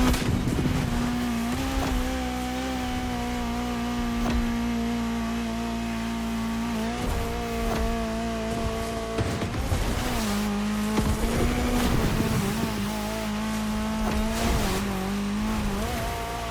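A Peugeot race car in the Motorfest racing video game drives hard, its engine holding a loud steady drone with gear-shift dips and revving surges, plus brief tire squeals and skids, with no talking.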